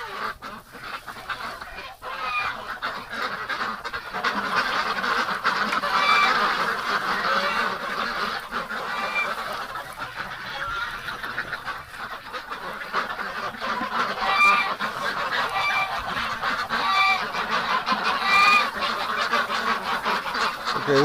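Ducks in a winter duck pen quack and honk repeatedly, a busy chorus of overlapping calls close by, rising and falling in loudness across the stretch with no talking.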